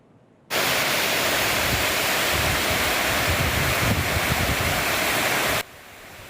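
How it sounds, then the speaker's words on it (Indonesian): A loud, steady roar of wind-driven heavy rain during a storm in Sorong, West Papua, a dense broadband hiss that starts abruptly and holds constant for about five seconds before cutting off. "badai angin kencang disertai hujan deras menerjang Kota Sorong"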